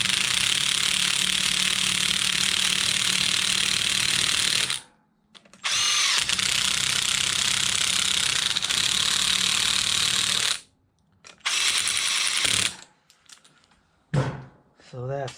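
A ratchet snugs bolts on a Yamaha YFZ450R engine during a build, making loud, continuous clicking and whirring runs broken by short pauses, with brief handling noises near the end.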